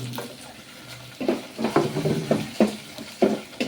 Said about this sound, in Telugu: ఒక నిమిషం పాటు అయితే ఇది వేగనివ్వాలి